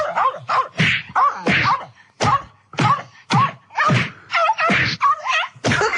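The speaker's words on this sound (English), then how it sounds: "That's someone beating up a dog." A staged sound effect of a dog being beaten: about a dozen sharp thumps and whacks, each with a yelping, whining dog cry, arriving in a fast, uneven run that is loud and close.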